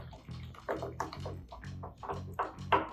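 Mayonnaise being stirred into a poblano pesto in a bowl, a series of soft, wet squelching and slapping strokes in an uneven rhythm, close and fairly quiet.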